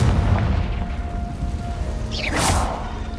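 A Confringo fire spell bursts in a Harry Potter video game, a whooshing, rising blast that swells about two seconds in over a low rumbling game background, fairly soft overall.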